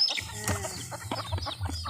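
Backyard chickens cluck in short, close bursts, several birds overlapping in an uneven rhythm, with a faint chirp in the background.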